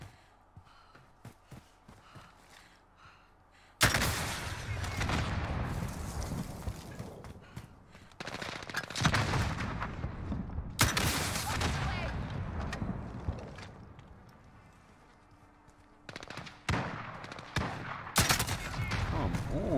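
Gunfire in the video game Modern Warfare comes as loud, dense bursts of rapid shots in several long volleys separated by quieter gaps.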